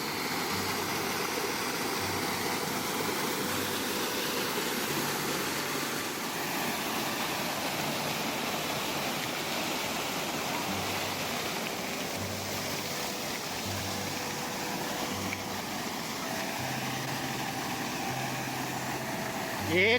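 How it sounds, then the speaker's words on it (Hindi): A mountain waterfall on a bike trip road from Munsiyari to Pithoragarh, with water being collected from it: a steady, loud broadband rush of falling water throughout, with a faint engine-like hum underneath. "पानी भरने की कोशिश कर रहा है झरने से।"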